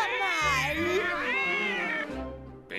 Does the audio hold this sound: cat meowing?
yes